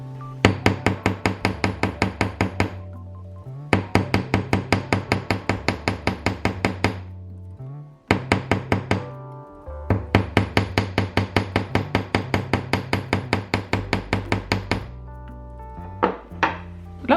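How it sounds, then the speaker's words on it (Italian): Rapid metallic hammer taps on metal wire, shaping a Christmas bell, ring out in quick bursts of many strikes, separated by short pauses, close and sharp with no talking. "Ora vado a fissare la forma martellandola."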